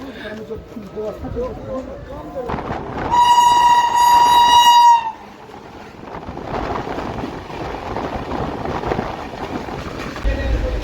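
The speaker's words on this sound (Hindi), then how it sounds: "किसी ने चैन खींच दी, इसके वजह से डिपार्चर हो के भी ट्रेन रुक गई।" Indore Express train halted at Buxar station after a chain pull, a loud sustained horn blast over rumbling carriage noise and platform bustle, with people talking nearby.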